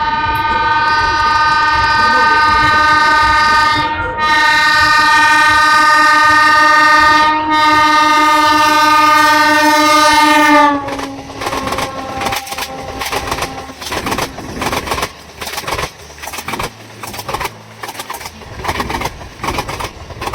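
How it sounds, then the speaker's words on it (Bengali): A train pulls into a small village station during a rural Poush Mela, its horn blaring loudly and steadily for about ten seconds with brief breaks, then giving way to the clattering rumble of the passing railway cars close by. "এই যে দেখুন ট্রেন প্রবেশ করে গেছে।"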